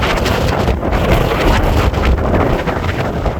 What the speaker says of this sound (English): The wind going right there.